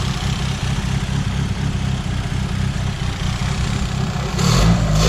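Fiat Seicento Sporting car engine running a little lumpy, a steady mid-range idle hum with a fluttering pulse, then a short rev near the end that raises the pitch and volume; no one speaks.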